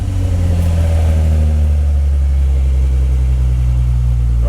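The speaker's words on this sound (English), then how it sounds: "it's going to be on normal right now when he starts it, just through the Flo Master at the back" A 2006 Ford Mustang engine runs through its Flowmaster exhaust, a loud, steady low rumble recorded close by. It idles evenly for several seconds with a faint rise in revs near the end.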